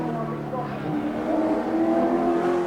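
Group C touring cars racing at Symmons Plains in 1984, including Brock's car, give a loud sustained engine drone that shifts pitch as a car accelerates, under a commentator's voice.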